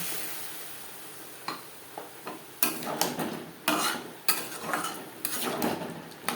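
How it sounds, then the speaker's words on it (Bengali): Potatoes and okra are stirred in a pan, with a spatula clanking and scraping against the metal in irregular bursts over a faint background sizzle. No one speaks. "আলুর সাথে ভেন্ডি 3-4 মিনিট নাড়াচাড়া করে নেওয়ার পর দিয়ে দেবো জল।"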